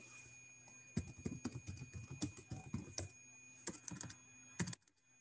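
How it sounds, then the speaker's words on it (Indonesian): Fingers type on a computer keyboard while writing a new blog post, a quiet, close run of irregular key clicks with a brief pause before a final burst of strokes. "teman-teman mulai mengetik di sini"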